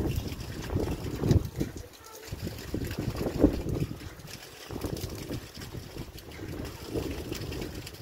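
Wind blows steadily across an outdoor microphone around a water-pumping windmill turning in a good breeze, a continuous rushing gusty roar that swells and dips throughout with no clear mechanical rhythm standing out.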